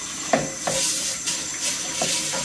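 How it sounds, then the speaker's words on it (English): Hot water poured into a new cast iron wok hisses and steams steadily, with a few soft scraping knocks close by. "That's the hot water."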